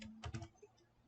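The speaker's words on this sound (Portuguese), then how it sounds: "vou digitar meu peso" Quiet typing on a computer keyboard while entering numbers into an Octave program, a short burst of three or four close keystrokes and a couple of softer taps afterward, with no voice.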